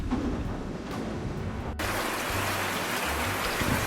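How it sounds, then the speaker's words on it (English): Heavy rain pours down in a steady, dense hiss, a louder burst arriving midway as the downpour intensifies, with low rumbling beneath and no voices. "It's starting to rain heavily."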